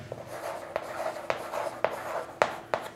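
Digits written by hand on a surface while working through seven- and eight-digit place-value numbers, heard as a soft continuous scratching broken by sharp taps as each stroke starts, close and clear with no talking.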